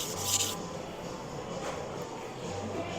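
A Misono UX10 kitchen knife with a 70/30 right-handed edge is worked against a sharpening stone, producing close, steady gritty rubbing and scraping strokes with no voices present.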